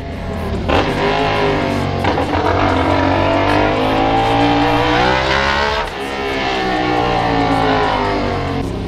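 Loud motorcycle exhaust pipes, likely 450SR/SS bikes, roar close by in a sustained rumbling drone that rises and falls with revving, dipping briefly before building again, with no talking.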